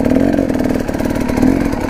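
A KTM 300 motorcycle engine runs at calm, steady revs in second gear, a loud continuous two-stroke buzz with even pulsing and no talking.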